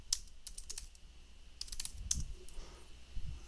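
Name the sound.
typing on a computer keyboard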